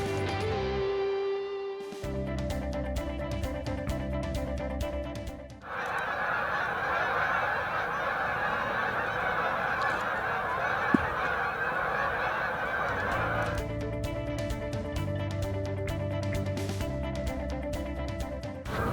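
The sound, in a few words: geese honking while flying in at a winter lakefront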